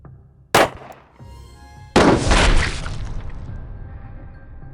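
Two loud, close shots from a .380 pistol fired into a ballistic gel chest target, the second blast followed by a lingering rumbling decay.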